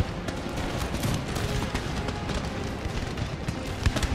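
Musket volleys crackle in Empire: Total War, a dense, continuous rattle of overlapping shots at moderate volume with a few sharper cracks near the end, no voices.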